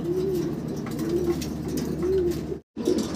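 A large adult breeding pigeon coos in repeated low, soft phrases close by, with a brief dropout of sound near the end.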